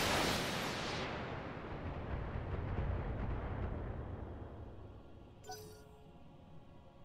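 A barrage of missiles fired in BattleTech, a loud rumbling launch roar that fades into a long low boom and then a faint metallic clinking, with no voices.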